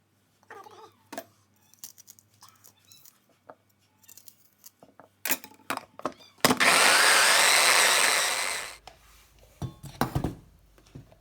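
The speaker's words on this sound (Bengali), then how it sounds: "তারপর আমি পেঁয়াজ আর মরিচ একসাথে আমি ব্লেন্ড করব আর সাথে একটু আদাও দেবো" An electric blender whirs loudly for about two seconds, chopping onion, chili and ginger, preceded by scattered kitchen clatter and clicks.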